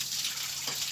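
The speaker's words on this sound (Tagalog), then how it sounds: "Tagas ng tubig" A brief, steady hiss of water gushing and leaking, close by, with no voices over it.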